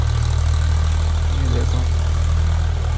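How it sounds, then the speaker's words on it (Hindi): A tractor idles in a farm field being prepared for planting, a steady low engine throb that stays constant and fairly close, with faint background sounds and no clear speech. "अभी खेत तैयार हो रहा है, ट्रैक्टर आया है"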